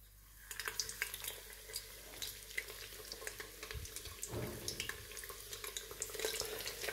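Breaded squid strips frying in a pan of hot oil, a steady crackling sizzle with bursts of popping as pieces go in, close and continuous throughout.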